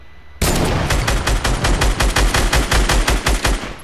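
Loud, rapid automatic gunfire rings out in a shooter video game during a duo match, with steady bursts of closely spaced shots that carry on for several seconds without a break.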